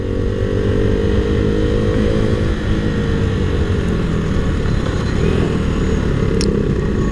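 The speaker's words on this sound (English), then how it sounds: "running on stock exhaust, but what a sound and stock exhaust." Ducati 959 Panigale superbike on its stock exhaust, a continuous loud, deep engine rumble while riding, with wind noise mixed in and no talking.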